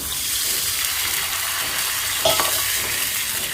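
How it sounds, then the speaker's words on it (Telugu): Water splashes into a hot pan, producing a steady loud sizzle and bubbling hiss, with a brief sharper burst partway through. "కొద్ది వాటర్ పోస్తున్నాను"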